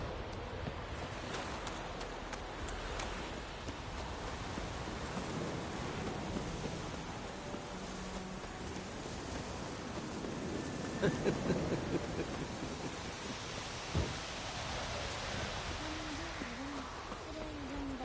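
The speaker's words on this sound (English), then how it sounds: "It's raining and pouring" Rain in the video game The Witcher 3, a steady hiss of falling rain with low thunder-like rumbles and a few brief knocks, moderately loud throughout.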